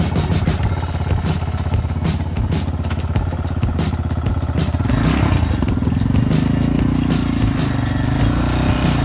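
A quad bike engine runs loud and close with a rough, rapid throb. Around halfway through it shifts to a heavier, fuller drone, with clattering and scraping over the running motor.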